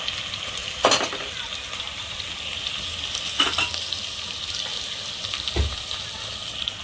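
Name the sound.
capsicum and carrot frying, stirred in pan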